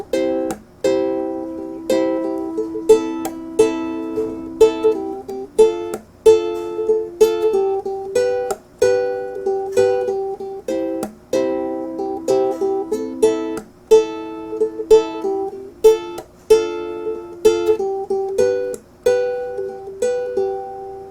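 A ukulele plays a blocking strum pattern, with short, muted chord strokes in a steady, repeating rhythm. It is close and clear, with no talking.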